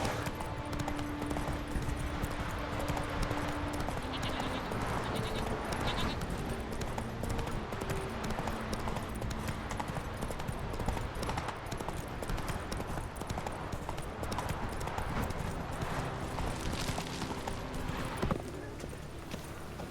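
Hooves of the horse Roach clip-clopping in The Witcher 3: Wild Hunt, a steady walking rhythm of light hoof strikes that keeps going throughout, mid-distance and moderately loud under a bed of ambient background sound.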